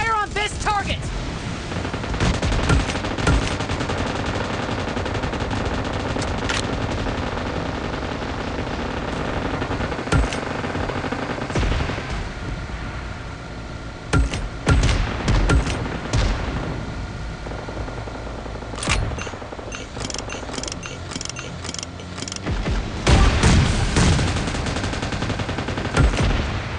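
Rapid gunfire in the PUBG Mobile video game, dense bursts of automatic shots and sharp cracks repeating throughout, loud and near, mixed with game sounds.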